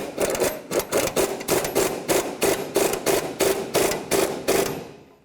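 A 21 mm wrench snugs a sway bar link nut on a 2004-2007 GMC Envoy, producing a steady run of about fourteen evenly spaced metallic ratcheting clicks, close and clear, then stopping.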